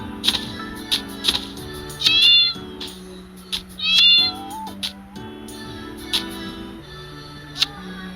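Cats in the Miga World game meow twice, each a clear, drawn-out mew about two seconds apart, over light game music and scattered ticking clicks, with no talking.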